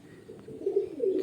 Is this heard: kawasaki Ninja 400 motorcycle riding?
no